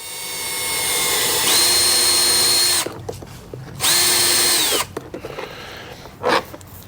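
Power drill reaming a hole through an ABS plastic aero part on a Porsche 991.2 GT3 Cup, in two loud sustained bursts of whining spin-up with a pause between, then quieter handling noises.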